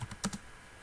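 A few quick computer keyboard keystrokes click close and quiet while Linux network settings are entered, three or four taps in under half a second followed by stillness.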